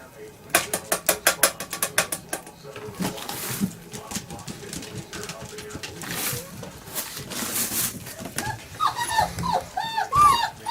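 German Shepherd puppies whimper and yip in short high bursts, with clicking, rattling noises early on and a person talking over them.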